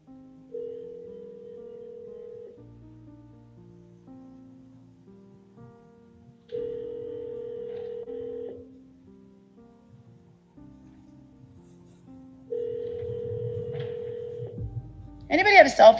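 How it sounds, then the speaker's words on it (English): Courtroom desk telephone placing a call: a sequence of steady ringback and dial tones at a few pitches, repeating in regular bursts with pauses, fairly clear and loud through the room, ending with a short voice. "I'm calling the 405-1604. I have a feeling I'm going to get voicemail."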